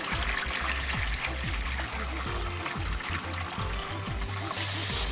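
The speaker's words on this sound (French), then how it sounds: "on vient verser de l'eau pour refroidir le tout" Water poured over a hot plaster mold used for casting aluminium, a steady trickling pour with bubbling and gurgling, close and fairly loud throughout, no voices.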